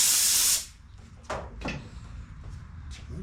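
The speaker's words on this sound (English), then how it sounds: "Spray that off a little bit." A loud, steady broadband hiss of spray directed at an Echo PE-200 edger runs for about half a second and then cuts off, followed by several faint clicks and knocks from handling the tool.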